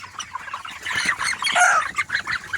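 Broiler chickens, 28 days old, in a poultry farm shed produce a dense, continuous chorus of overlapping chirps and squawks, fairly close and busy with no pauses.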